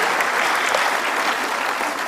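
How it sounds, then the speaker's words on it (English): Audience at a plenary panel discussion on research and innovation applauds panelists, a steady, dense wash of many hands clapping throughout, loud and continuous without a break. "Let's keep the applause going."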